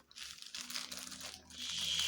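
Packaging for a magazine delivery is crinkled and torn open from the back, a close, continuous rustle of plastic or paper that grows louder and denser near the end.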